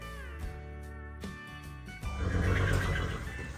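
A horse whinnies during morning grain feeding on a farm with many animals, a loud neigh rising after two seconds over steady background noise.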